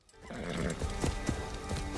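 A horse in Assassin's Creed Shadows whinnies loudly and then trots with rhythmic clip-clop hoofbeats on open ground, close and clear with no talk over it.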